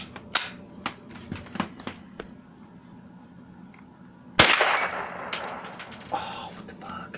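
A .22 rifle fires outdoors near a lawn mower target: faint clicks and mechanical handling, then one loud, sharp report close by with a short ringing decay, followed by more light metallic clicks.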